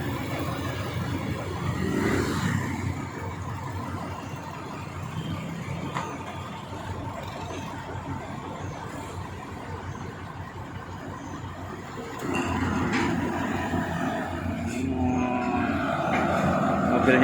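Heavy equipment unloaded from a transport vehicle with its engine running, a continuous loud mechanical rumble and roar that swells louder near the end, with faint clanks over the steady drone.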